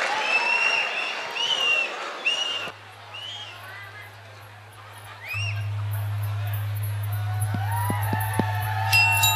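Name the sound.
audience applause at a concert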